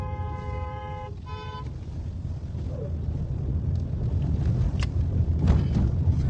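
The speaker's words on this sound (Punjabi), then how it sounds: "ਹਾਰਨ ਦਾ ਹੱਥ ਰੱਖ" A car horn sounds in two short tonal toots near the start, then gives way to rising wind buffeting and road noise from a moving vehicle.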